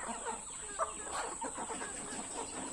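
Many chickens cluck continuously on an Indonesian chicken farm, a dense, steady chatter of overlapping clucks at moderate distance with a constant high electrical whine in the background.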